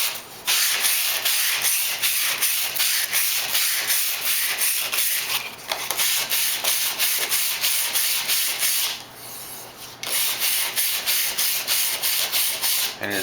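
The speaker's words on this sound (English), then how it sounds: "now I'm going to take some 220 sandpaper and just lightly sand it to smooth it off" Steady back-and-forth rubbing of 220-grit sandpaper on a wooden dice tower, a rhythmic scratchy hiss that continues for several seconds with a brief pause near the end.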